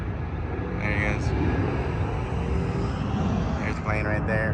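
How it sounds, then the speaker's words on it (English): Airplane taking off near a stadium construction site, its distant engine roar a steady broad rumble under ongoing outdoor noise, with people talking nearby. "There's the plane right there."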